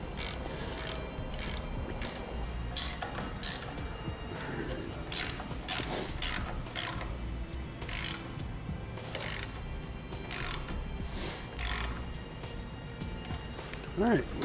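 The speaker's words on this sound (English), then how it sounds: "What we want to do is just get those all threaded together so it'll be nice and secure." Threaded air brake push-to-connect fittings with thread tape being screwed together for an RV flat tow brake system, giving repeated ratcheting clicks and metallic creaks in short bursts throughout, with a person talking over them.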